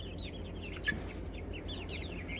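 Young guinea fowl and chicks peep and cheep in quick, overlapping high chirps, a continuous busy chatter from a small flock heard at moderate distance without talk.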